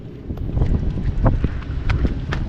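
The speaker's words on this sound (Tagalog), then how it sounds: "Ala, lakas ng alon pala dyan oh. Maalon pala dyan pag mahangin." Blustery wind rumbles against the microphone while rough, wind-driven waves slosh and splash on a rainy day, a steady rough outdoor noise throughout.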